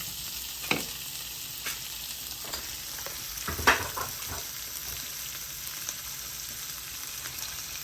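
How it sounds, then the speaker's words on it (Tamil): Bell pepper sautéing in a pan for beef curry: a soft, steady sizzle runs throughout, broken by a few sharp clicks and scrapes of stirring, with no voices. "பெல் பேப்பரை போட்டுட்டேன், வதக்குறேன்"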